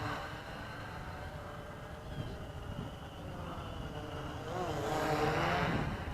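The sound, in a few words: Bayang X16 quadcopter drone motors in flight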